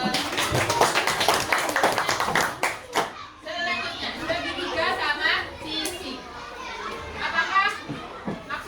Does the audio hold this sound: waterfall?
no